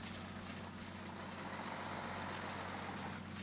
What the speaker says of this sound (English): The lorry pulls away from the machine and the whole setup is ready to be raised.